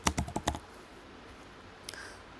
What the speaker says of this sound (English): let's click on search bar and type here